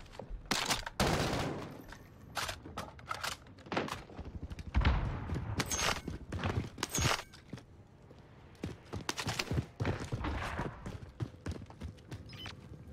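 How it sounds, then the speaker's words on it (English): Video game gunfire during a multiplayer match: dense, irregular bursts of loud shots and fusillades keep going without a break, with impacts and clattering mixed in, fairly close, and no talk over it. "Taking fire."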